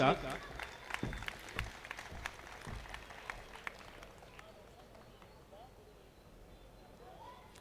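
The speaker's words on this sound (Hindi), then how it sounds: "आप जोरदार तालियों से इस्तकबाल करें" Audience at a mushaira poetry gathering in Sakinaka claps as the ceremonial lamp is lit, with scattered, fairly close claps at first that thin out and fade to a low murmur of room noise.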